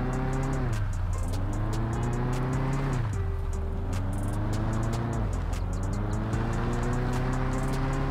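A car drifts in the Mon Bazou driving game, played on a Logitech G27 wheel, its engine droning and revving steadily with pitch swoops as it slides, loud and continuous with tire noise throughout.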